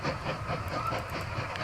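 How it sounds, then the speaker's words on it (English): A train rolling along in the Mashinky railway-building game, giving a continuous rumble with rhythmic clicking and faint hissing, steady and fairly close. "so we can actually ride along on the train"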